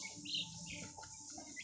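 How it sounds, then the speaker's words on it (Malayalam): A newly hatched chicken chick, one of four, peeps in a few quick, high chirps close by, faint against light room noise, with no talk. "ഒരു കോഴിക്കുഞ്ഞിനെ എടുത്ത് ഇപ്പോൾ കാണിച്ചു തരാം."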